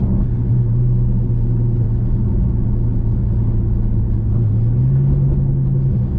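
Nissan GT-R tuned to 750 bhp pulling hard on a Scottish A road, its engine and exhaust a loud, steady low rumble that drones continuously from inside the car, with a slight rise in pitch toward the end and no voices.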